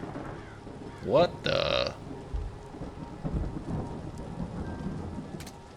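Rain falls steadily in a stormy night scene at Blake Manor, a constant hiss with low thunder rumbles rolling in the background, while a man briefly exclaims early on.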